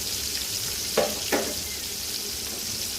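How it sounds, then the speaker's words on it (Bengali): Pangas fish sizzling in hot oil, a steady crackling hiss close by, with a couple of sharper pops or stirring scrapes in the middle. "পাঙ্গাস মাছ ভাজতে দিয়ে দূরে দূরে চলে যাই"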